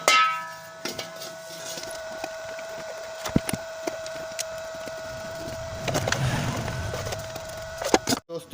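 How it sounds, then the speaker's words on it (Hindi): Rear end cover being fitted onto a water pump motor, giving sharp metallic clangs and knocks at irregular intervals over a faint ringing hum, with a denser scraping patch near the end and no voices. "अब हम पीछे वाले टापे को लगाएंगे।"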